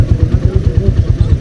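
A motorcycle engine runs on a mountain road from Gahkuch, Ghizer, toward Darkut village in Yasin Valley, through a flood-damaged area. It gives a steady, low, rhythmic thumping that stays close and loud throughout.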